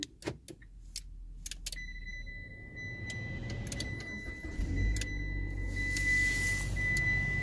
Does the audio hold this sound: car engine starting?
yes